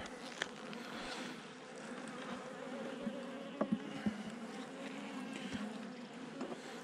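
Honeybees buzz on a hive frame during a small-swarm check, a faint, continuous droning hum with occasional soft knocks and handling noises.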